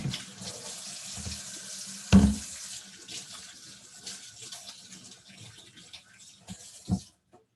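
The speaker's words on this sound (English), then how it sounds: "Wash my hands real quick." A tap runs quietly while hands are washed, a soft intermittent trickle with a few louder splashes and knocks, close by and with no talking.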